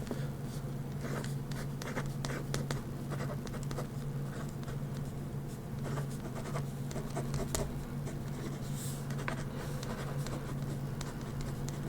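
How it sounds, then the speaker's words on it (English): A pen writes down an answer at close range in an ASMR setting, producing a steady, soft scratching and tapping of the nib on paper throughout over a low constant hum, with no one speaking. "Let me just write that down."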